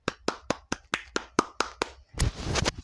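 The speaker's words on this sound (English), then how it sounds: "Everybody give her a round of applause." Applause from a single pair of hands: about nine evenly spaced sharp claps, close and distinct, then a brief burst of louder, denser clapping with rustling.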